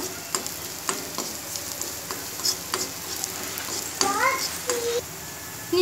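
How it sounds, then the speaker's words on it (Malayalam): Ingredients for Malabar thari kanji are stirred and sautéed in a pan, a steady sizzle with scraping strokes and clinks, while a voice chirps briefly in the background. "ഇതൊന്ന് ആ ഒരു സ്മെല്ലൊക്കെ ഒന്ന് മാറുന്ന വരെ ഒന്ന് വഴറ്റി കൊടുക്കാം"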